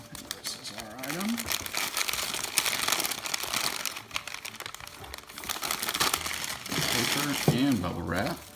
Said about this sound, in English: Paper and bubble wrap.